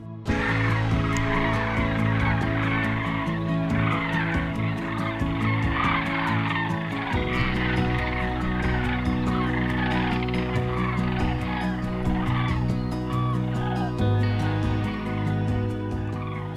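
A large flock of sandhill cranes calling all at once, a dense, loud, continuous chorus of rattling, trumpeting cries.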